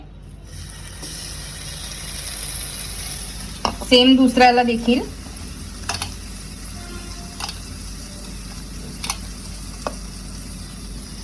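Masala French toast made from bread and potato, dipped in batter and set on a hot tawa griddle, gives a soft steady sizzle with a brief louder scrape and clatter early on, while someone speaks briefly.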